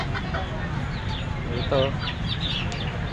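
Pom-pom chickens cluck and call among other farm fowl at an agricultural fair, with a person talking over the birds and steady crowd noise beneath.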